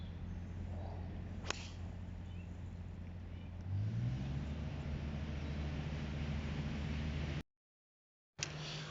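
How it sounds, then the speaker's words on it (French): A greenkeepers' small motorized cart on a golf course hums steadily nearby, its engine note rising as it pulls away, then a sudden gap of silence before the hum returns. "le balai des greenkeepers a démarré. Hop, dans leur petite voiture"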